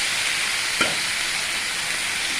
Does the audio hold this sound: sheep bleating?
no